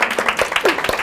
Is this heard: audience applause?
yes